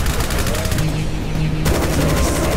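Rapid gunfire from gunner enemies in Doom 2 with the Project Brutality mod, a dense continuous burst of loud, close shots with game sound underneath.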